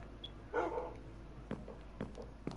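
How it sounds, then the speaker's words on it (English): A dog in Minecraft gives a few short barks and yips spaced across the moment, fairly faint against quiet background noise. "That's a dog, Oliver."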